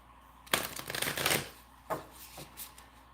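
Tarot deck, a set of light worker cards, riffled and shuffled by hand before a reading: one dense burst of papery flutter lasting about a second, then a few short, softer card snaps and taps, close and alone.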